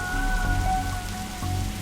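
Steady rain in a detective video game scene, a loud close hiss of drops on surfaces with a low rumble underneath and faint tonal game sounds, no talk.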